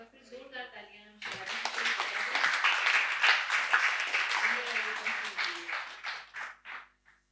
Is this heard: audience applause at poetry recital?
yes